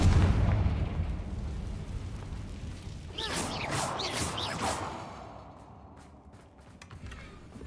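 A Confringo fire spell explodes in Hogwarts Legacy, with bursts of crackling blasts and whooshing debris a few seconds in, fading into a softer rumbling tail.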